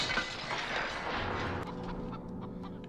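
Chicken clucking from the 1974 horror film The Texas Chainsaw Massacre, a busy stretch of agitated clucks and fluttering that stays fairly loud throughout, with no talk over it.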